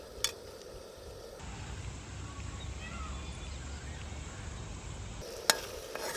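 Chicken frying in a garlic and curry leaf masala in a village kitchen, a steady close sizzle running through most of the clip, briefly interrupted by a short exclamation.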